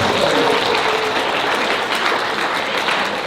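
A seminar audience breaks into sustained applause: many hands clapping in a thick, even roar that holds at full strength throughout.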